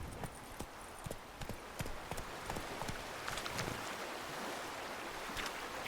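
Roach, Geralt's horse in The Witcher 3 video game, gallops with a quick, steady clip-clop of hooves over soft wind and a distant wave-like wash, fairly faint and continuous.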